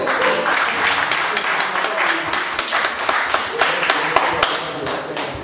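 An audience at a tribute gathering for Rochereau Tabu Ley in Toronto claps loudly as a speaker comes to the podium, many distinct close hand claps in a lively uneven patter, with voices faintly mixed in.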